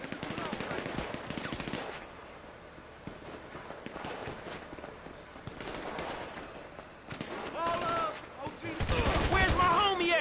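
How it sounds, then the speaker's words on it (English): Rapid bursts of automatic gunfire from a PlayStation 3 shooting game, dense and loud in stretches with brief pauses, alongside scattered game noise and voices. "Damn, who's shooting my ass?"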